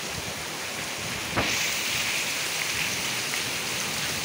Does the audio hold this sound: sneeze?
no